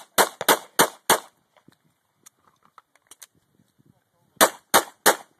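Rapid bursts of gunfire at a gun club, a quick string of four sharp cracks, then scattered quiet clicks and handling noise, then three more loud shots close by.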